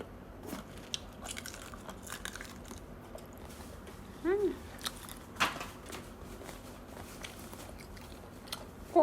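Close crunchy bites and chewing while eating grilled shrimp with papaya salad, intermittent mouth sounds over a quiet room with faint background noise.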